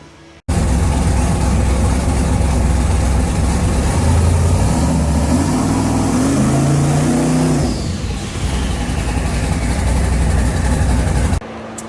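A twin-turbo big-block Chevy gasser engine running in a garage, loud and close with a deep, lumpy idle, rising into a brief rev with whining pitch before settling back, then cutting off.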